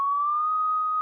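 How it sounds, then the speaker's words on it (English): Juno synth sine wave preset holding a single pure steady tone, loud and clean, lasting about a second with no other sound. "I grabbed another Juno synth, but this time it's this sine wave preset"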